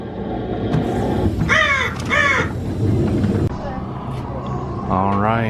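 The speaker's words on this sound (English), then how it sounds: "Very loud bird." Loud crow calls inside a House of Frankenstein wax museum display: two harsh, close caws in quick succession, then a third near the end, with people talking around them and rumbling room noise underneath.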